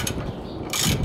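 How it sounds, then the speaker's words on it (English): A ratchet wrench loosening the bolt that holds a car headlight in place, heard as close, fast mechanical clicking that grows louder toward the end. "Instead I have to remove this bolt"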